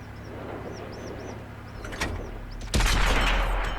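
A tank gun fires in World of Tanks, a sudden loud boom late in the span that rings on, after engine rumble, faint whistles and a softer thump.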